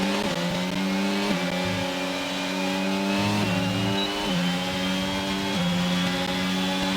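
Formula 1 car engine in a racing video game at the Portugal circuit, a steady high whine with repeated pitch drops and rises as the driver lifts off the throttle and shifts, loud and continuous with no talk.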